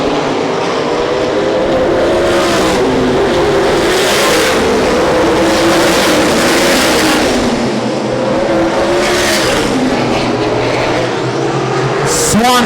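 USAC National Sprint Cars racing in a tight pack at Winchester Speedway, engines droning loudly and continuously with rising and falling harmonics as the field circles the track, under commentary.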